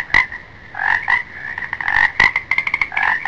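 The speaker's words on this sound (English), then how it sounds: "Frog." Frog croaking as an animal flashcard sound: a rhythmic run of loud, raspy croaks in quick bursts, close and alone.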